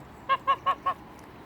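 Four loud, evenly spaced honks from a goose ring out in quick succession, close by, followed by quiet.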